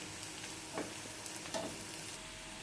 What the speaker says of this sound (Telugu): ఆనియన్స్ త్వరగా ఫ్రై అయినాక కొన్ని కర్రీ లీవ్స్ని యాడ్ చేసుకున్నాం